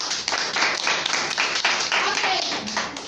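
A group of people clap in steady applause for a team at a conversation club session, the dense patter of many hands continuing throughout.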